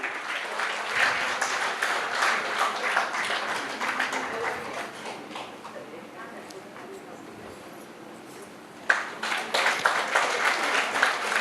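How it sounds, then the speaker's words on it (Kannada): An audience at a Kannada Sangha community event in Thane applauds a prize winner. Dense clapping fills the room, eases off briefly, then swells again, with a voice speaking over it. "ಜೋರಾಗಿ ಚಪ್ಪಾಳೆ ಪ್ರಭಾನವರಿಗೆ"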